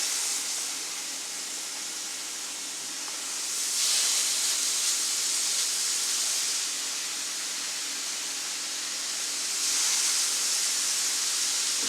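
Burger patties sizzling in a deep fryer, giving a steady loud hiss of bubbling oil that swells and eases in waves, with no talking.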